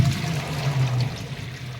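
A small amount of water pours for hand laundry at a home in San Jose del Monte, Bulacan. The splashing pour is close and brief, lasting under two seconds, with no talking.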